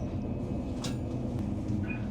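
Steady low rumble of a TransPennine Express passenger train running along the line near Thornaby by the River Tees, heard from inside the carriage, with a brief brighter hiss partway through and a faint squeal near the end.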